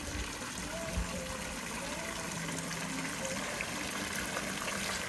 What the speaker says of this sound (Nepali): call call call call call पानीको आवाज